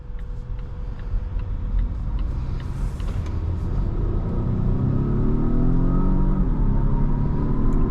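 A 2024 Volvo S60 T8 Recharge Plus, a 455-horsepower plug-in hybrid, accelerates on the road, heard from inside as a steady low rumble with a rising engine tone that builds and sweeps upward over road noise.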